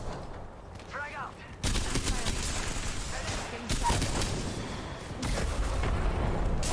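Gunfire and a grenade blast in a first-person shooter video game, a dense burst of loud shots and booms that keeps going with a rough, crackling texture.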